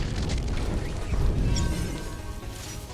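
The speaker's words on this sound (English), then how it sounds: "Fireworks. I'll set one off each time I ding." Fireworks launched in the Star Wars: The Old Republic online game, giving a dull boom with crackling bursts that sustain at steady loudness for a few seconds, heard alone without talk.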